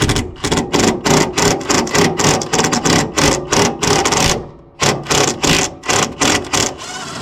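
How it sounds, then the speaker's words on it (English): Bolts on the brake caliper of a Murray Select lawn tractor being run out with a power tool, fast bursts of loud rattling whirr stopping and starting in quick succession, with one short pause midway. "successful removal of the brake caliper bolts"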